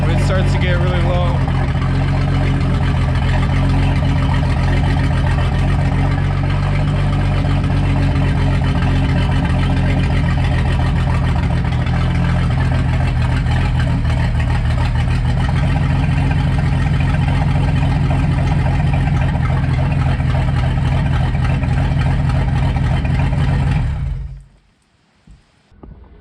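An OMC 4.3 boat engine runs steadily at a loud, close idle with a deep rumble, while fogging oil is sprayed into the carburetor; the running stops abruptly near the end.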